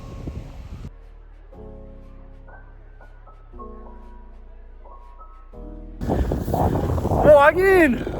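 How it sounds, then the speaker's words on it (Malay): Wind gusts buffeting the microphone on a boat at sea, rising to a loud roaring burst near the end, with people talking and exclaiming over it. "Oh, angin."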